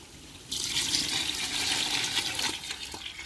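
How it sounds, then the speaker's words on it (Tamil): Water pours steadily into a mutton biryani pot, a sustained splashing rush that starts abruptly and runs loud and close for about three seconds with no talk. "இப்போ நம்ம பிரியாணிக்கு தேவையான அளவு தண்ணி ஊற்றிக்கிறோங்க."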